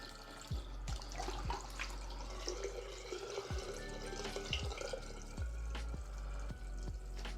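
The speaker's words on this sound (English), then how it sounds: "if you send down a big rush of water, that can help catch and send that debris out on its way to a larger pipe" Water rushes steadily down a bathroom sink drain being cleared of a clog, with a continuous splashing flow and a few sharp drips or knocks scattered through it, close and fairly loud, with no voices.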